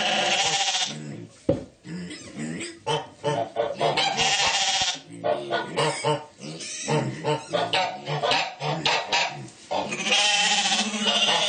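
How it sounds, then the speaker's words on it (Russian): A calm young ram lamb, one of several young lambs being given vitamins, bleats again and again in loud, close, overlapping cries, with brief pauses and handling noise between calls. "Спокойненький баранчик."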